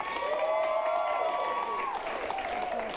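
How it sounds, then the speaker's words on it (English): An improv comedy audience votes for a Western finale with clapping and a long rising cheer or whoop carried over a crowd wash, steady and fairly loud for the whole stretch. "we're going to get a round of clapping going for everyone here, and then you'll clap loudest"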